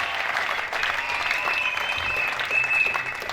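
A church congregation applauds at an evening service with dense, steady clapping and some cheering voices mixed in, sustained and fairly loud throughout.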